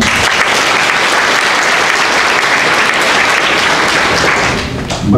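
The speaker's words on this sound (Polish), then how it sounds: "Wielkie brawa." Loud, sustained applause from an audience at a Lublin academic year inauguration ceremony, dense steady clapping filling the hall for about five seconds before easing slightly at the end.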